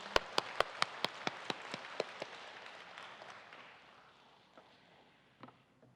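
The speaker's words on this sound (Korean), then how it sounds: "다시 한번 영광의 박수를 올려드립니다" Scattered, separate claps ring out near the start from a church congregation at a joint Korean worship gathering, about a dozen sharp hand claps that thin out and fade into quiet room noise.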